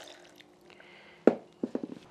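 A little water is added to ground guajillo chile with salt, giving a sharp splash followed by several quick drips and small pours, close and clear over a quiet kitchen background.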